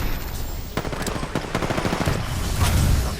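Automatic gunfire in Apex Legends, loud close bursts of rapid shots with explosions and game effects mixed in.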